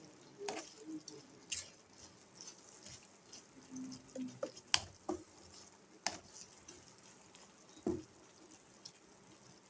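Tamil-style citron pickle simmering slowly in a pan over a low flame, giving soft scattered pops, drips and gentle stirring scrapes, fairly quiet and close, with no talking.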